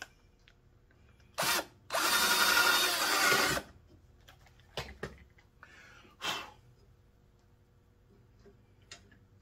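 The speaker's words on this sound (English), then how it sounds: "We'll drill." Power drill running in a short burst and then a longer whirring stretch of about two seconds, followed by scattered clicks and small tool knocks in a quiet space.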